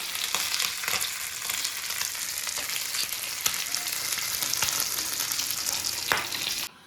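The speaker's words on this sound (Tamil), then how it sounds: "மீன் வந்து வெந்துருச்சு எடுத்து பேரில் வச்சுக்கலாம்" Dam fish sizzles steadily in hot oil in a pan, a dense, even crackle that runs close and loud throughout before cutting off abruptly near the end, with occasional sharper pops.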